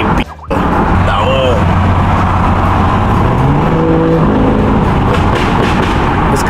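A 2.0 diesel car engine, out on the street, revs loud and close, its pitch rising and falling through a few throttle blips, while people talk over it.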